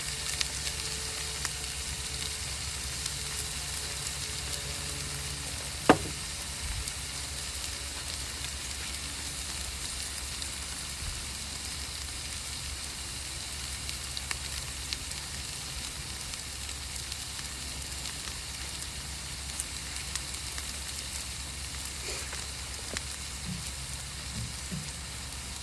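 Steady, close crackling sizzle of tri tip meat cooking on a hot grill, continuing evenly with occasional small pops and no talking.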